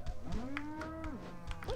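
A cow moos in the South Park N64 video game, one drawn-out low moo over game noise and thumping impacts, fairly faint.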